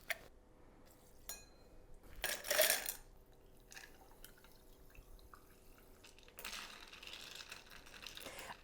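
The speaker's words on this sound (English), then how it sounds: "we're gonna squeeze some limes and our mint that we're gonna muddle" Lime wedges and mint are muddled for a keto mojito: a few scattered thuds and wet crushing knocks in a glass, one louder burst near the middle and another toward the end, with quiet gaps between.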